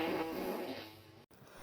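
A fart from a girl sounds as a single drawn-out, low rasping blast that tapers off over about a second, quiet and close, followed by a brief dropout.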